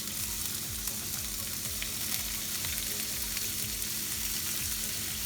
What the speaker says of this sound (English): for this we're gonna use some oil and finely chopped onions